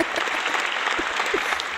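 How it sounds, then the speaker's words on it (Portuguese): Brief, steady clapping from a classroom audience, a dense patter at moderate level with faint voices underneath. "Palmas, palmas, palmas."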